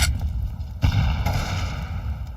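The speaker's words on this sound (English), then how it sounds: "Throwing the flashbang." A flashbang going off in Counter-Strike 2, a sharp burst cutting in partway through, followed by a ringing, sustained tone and low rumble in game audio.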